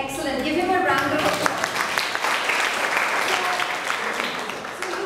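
Audience applause for a Table Topics speaker at a public speaking meeting, a steady round of clapping from a room of people with voices mixed in over it.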